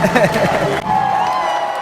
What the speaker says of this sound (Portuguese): Yvette Mac, aplausos para ti também.